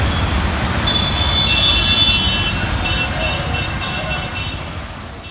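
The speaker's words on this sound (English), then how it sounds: "This is a 15-minute long video of heavy traffic noise in India" Heavy road traffic in India rumbles steadily, with dense broadband engine and tyre noise and an occasional distant horn toot, holding loud throughout.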